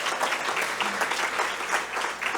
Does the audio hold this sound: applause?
yes